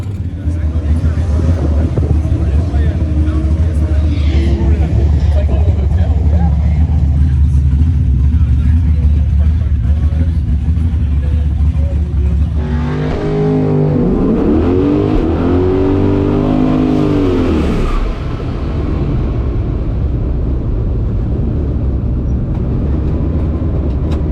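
A drag race car at Gainesville Raceway with a loud engine roar throughout, rising into a hard acceleration with sweeping pitch changes mid-run as it launches down the strip, wind buffeting the microphone.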